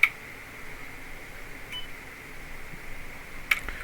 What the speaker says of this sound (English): that we're getting a beep